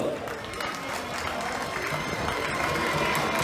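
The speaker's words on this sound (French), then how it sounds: "Des applaudissements pour la Gauloise de Master" A crowd applauds the Gauloise masters football team as the lineup is introduced before a match, a steady, dense wash of clapping and crowd noise that holds at an even level throughout.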